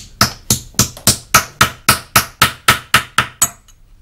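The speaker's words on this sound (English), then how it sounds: "I'm now going to hammer into a different hollow in my tree stump to get the shape" A steady series of about a dozen sharp metallic hammer blows shaping silver sheet into a hollow in a wooden tree stump, at an even rhythm, close and loud, each ringing briefly before the next.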